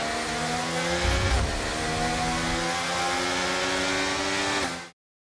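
F1 race car engine in the F1 23 video game, a steady loud high-pitched whine holding at speed with a brief rise, then cutting off abruptly.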